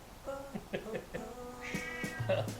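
An unhappy house cat meows several times in a row, loud and close, while playing with a cat toy, with short, wavering cries and brief gaps between them.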